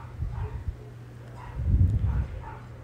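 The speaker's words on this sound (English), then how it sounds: "Now another dog started just barking right when I said dogs are barking." Dogs bark in a backyard at night, a few muffled, distant barks with low thumping bursts scattered across a quiet outdoor background.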